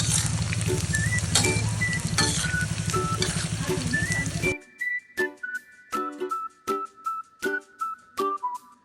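Mole crickets (mang kok) deep-frying in hot oil until crispy, a dense loud sizzle with bright tonal squeaks, followed by quieter rhythmic scraping stirs against the pan.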